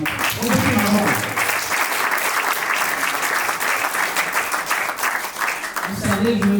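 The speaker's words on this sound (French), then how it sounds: "On applaudit pour moi." Guests at a civil wedding ceremony clap loudly for several seconds, a dense crowd applause, with a voice speaking briefly at the start and again as the clapping fades near the end.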